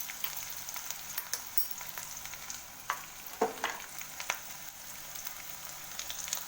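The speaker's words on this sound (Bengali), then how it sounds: "পেঁয়াজটা ভালো করে ভেজে নেব, লাল করবো না, আবার ভালো করে ভেজে নেব" Onion frying in a pan, with a soft steady sizzle broken by the scrape and clatter of stirring, close but quiet.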